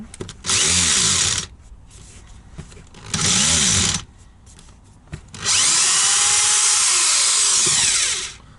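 A power tool whirs in three loud bursts, two short then one long, unscrewing tight bolts on a moped carburetor, with quiet pauses and faint clinks between.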